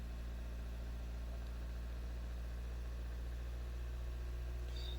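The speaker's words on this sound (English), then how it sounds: "I'll increase the little bit RPM 1500 around 2000" Steady diesel engine hum from a 2017 Renault Trafic, a constant low drone held at raised revs with no clear change in pitch.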